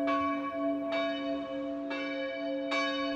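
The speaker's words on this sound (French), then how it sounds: "Les cloches sonnent" A church bell tolls repeatedly in France, with several loud, ringing strikes about a second apart, each leaving a long resonant hum between them.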